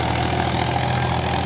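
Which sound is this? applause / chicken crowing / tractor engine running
tractor engine running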